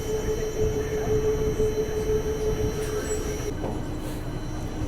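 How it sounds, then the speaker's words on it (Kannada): Train departing Arsikere station, a low continuous rumble of rolling wagons with faint metallic squeals and a steady high whine, heard from nearby without any voices. "ಯಾವುದೋ ಟ್ರೈನ್ ಡಿಪಾರ್ಟ್ ಆತ್ರಿ"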